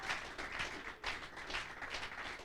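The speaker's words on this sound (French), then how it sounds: "Acclamons." A church congregation applauds at a testimony service, a soft, steady wash of clapping from many hands heard from a distance.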